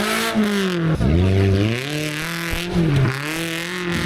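An off-road rally car engine roars and revs at a mountain off-road festival in Guria, Georgia, close and loud, its pitch climbing and dipping through several throttle blips, with faint speech in the background.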